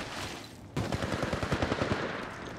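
Automatic gunfire in Apex Legends Mobile during a ranked match: a rapid, loud burst of evenly spaced shots starting abruptly after a moment of low background noise and continuing steadily.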